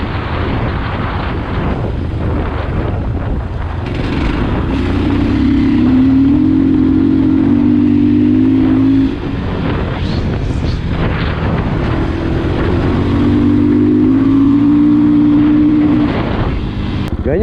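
Fantic Caballero 500 Rally motorcycle on the move, its engine droning under heavy wind rush, rising twice into a sustained higher-pitched pull as it accelerates, close and loud with no talking.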